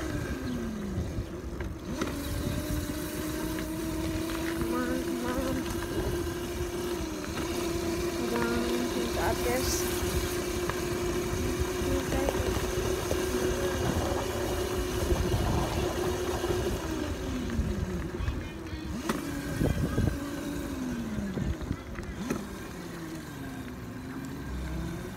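A car engine hums steadily while driving, a mid-level drone with gentle pitch shifts as the speed changes, continuous across the stretch, with no talk over it.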